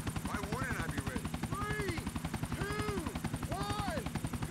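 Steady rapid thudding of helicopter rotor blades in GTA: The Ballad of Gay Tony throughout, with voices talking over it.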